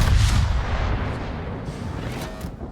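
Warship main guns fire in the naval battle game World of Warships, a heavy booming salvo that rumbles and fades over a few seconds, with a couple of softer distant reports toward the end.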